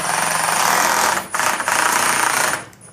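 A power tool buzzes loudly and close as it drives a bolt into a projector mount bracket for a JVC NZ9 install, running in a steady rattling whine with two brief dips before stopping.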